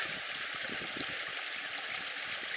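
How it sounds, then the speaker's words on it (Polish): A river in Iceland rushes steadily in the distance, a soft, constant broadband wash of flowing water with no other sounds over it. "O, tu w oddali jest właśnie rzeka"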